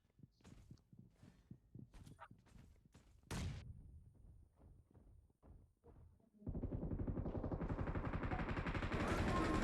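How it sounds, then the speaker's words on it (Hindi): Gunfire in the mobile battle royale BGMI: scattered single shots and short bursts at first, then a sustained loud stream of rapid automatic fire near the end, with no talk over it. "लेफ्ट से एक बंदा बाहर से फायर कर रहा था"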